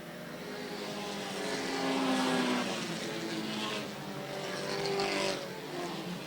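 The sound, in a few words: stock race cars passing on speedway oval completing lap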